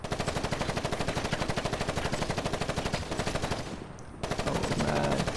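Enemies fire rapid automatic gunfire in the Gangstar Vegas video game, a steady run of regular close bursts that stops briefly near the end and then resumes.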